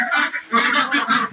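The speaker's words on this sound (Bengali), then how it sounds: "এখানে রয়েছে রানিং ডিমের হাঁস" Pekin and Indian Runner ducks at a duck farm giving loud, nasal, honking quacks in several quick overlapping bursts, close and alone.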